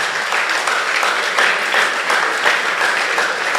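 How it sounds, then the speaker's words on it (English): Audience applause for an event sponsor at a student STEM festival mentorship session, a steady dense clapping from a sizeable crowd sustained across the whole stretch at fairly loud level. "give them a round of applause"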